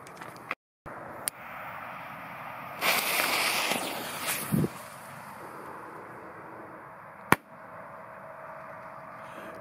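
A no-name Jorge firecracker at a New Year's Eve fireworks outing gives sharp single bangs, one early and a loud crack near the end, with a hissing burst in between over faint background noise.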